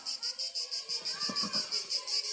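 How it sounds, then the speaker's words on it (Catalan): A summer cicada drones in a rapid pulsing buzz, swelling and fading about five times a second, fairly loud and steady throughout. "L'escolteu a la cigala?"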